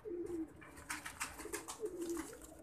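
A pigeon coos softly and repeatedly, low throaty calls at a moderate distance with faint rustling around them.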